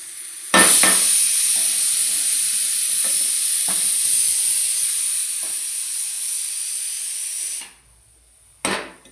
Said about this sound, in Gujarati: જરીક વાર ઉકળવા દેવાનું